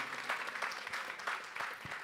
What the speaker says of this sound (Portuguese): todos nós batêssemos uma salva de palmas para esses guerreiros